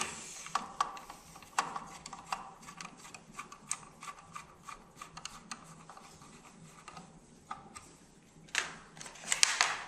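A light switch being screwed onto an electrical box, with quiet irregular ratcheting clicks and small mechanical rubs close by.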